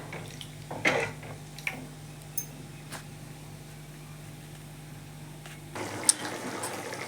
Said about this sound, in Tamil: இப்போ இது கொதிக்கிட்டோம் நான் அதுக்குள்ளே கருவாடை கழுவிட்டு வந்துடுறேன்